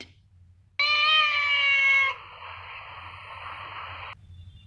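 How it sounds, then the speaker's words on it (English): A domestic cat gives one drawn-out, clear meow up close, then a quieter, noisier continuation before it stops, heard alone over a faint background hum. "This is a cat."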